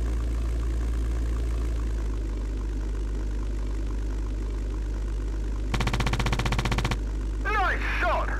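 Aircraft machine-gun fire in a World War II air combat game over Europe, a dense rapid burst of about a second rising over a steady low engine drone, followed by brief whistling effects.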